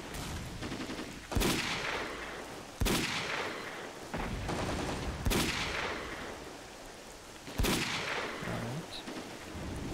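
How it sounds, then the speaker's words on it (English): Four heavy sniper rifle shots in the S.T.A.L.K.E.R.: Clear Sky game ring out about two seconds apart. Each sharp crack rolls into a long echoing tail over a constant rain-like hiss. "I should take those guys out from here with my sniper before they take me out"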